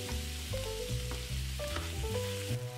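Meatballs sizzle steadily in a pan with vegetables and sofrito, a continuous close frying hiss broken by occasional stirring scrapes.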